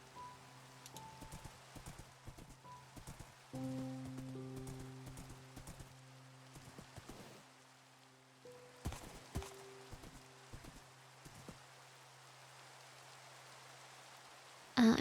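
Hooves of a horse in Minecraft clip-clop in irregular clusters of quick, sharp taps over soft musical tones and a faint rain-like hiss, quiet overall, with a louder knock right at the end.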